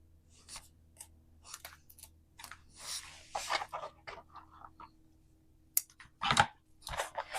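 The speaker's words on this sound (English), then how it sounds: "Scissors." Scissors snip double-sided tape at close range in a quiet room, giving a string of short, crisp cuts and clicks in irregular rhythm, with a few sharper snips near the end.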